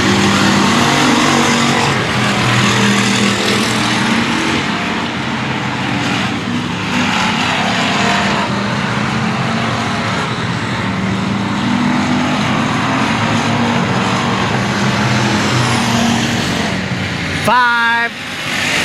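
Race cars roaring around the Cotton Bowl Speedway, a continuous loud engine drone rising and falling as cars pass, with a race announcer talking over it throughout.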